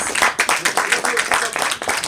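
An audience applauds at a solar power plant commissioning ceremony, a dense continuous patter of many hands clapping at close to moderate distance, sustained and fairly loud throughout.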